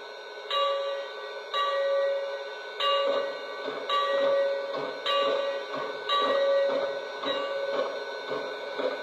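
Bell sound from a Lionel Legacy Strasburg #89 2-6-0 Mogul model steam locomotive, ringing in an even rhythm of about nine bright metallic strikes, each decaying quickly, heard close and alone.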